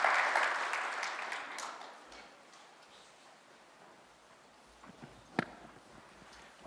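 An audience gives a standing ovation at a formal national ceremony in Kenya, with distant, fairly faint applause that is strongest at first and then thins out into scattered claps.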